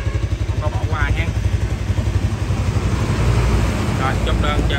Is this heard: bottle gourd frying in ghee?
no